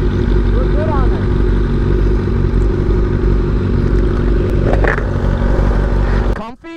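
A 2009 Kawasaki ZX-6R sport bike engine drones steadily and loudly while riding, with the rumble cutting off abruptly near the end as a rider talks over it.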